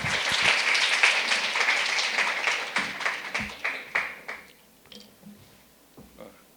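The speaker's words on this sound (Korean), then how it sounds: "큰 박수 부탁드리겠습니다." An audience at a leadership conference applauds a speaker coming on stage, a full burst of many hands that thins to scattered individual claps and fades out over several seconds.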